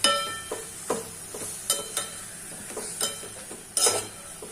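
Gongura leaves and prawns cooking in a pan, giving a soft continuous sizzle broken by several sharp scraping stirs and clinks at uneven intervals, close by with no talk.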